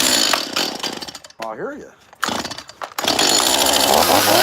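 An MS-171 chainsaw with a 16-inch bar carves wood up close, its loud, buzzing engine whining and revving in bursts with a short idle dip in between, while a person speaks briefly.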